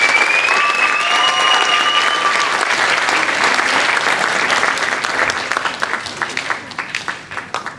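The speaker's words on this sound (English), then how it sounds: "Well, round of applause for Mr. Edwin." Audience at a middle school band concert clapping loudly in a dense burst with a couple of whistles, then thinning out to scattered claps as it fades.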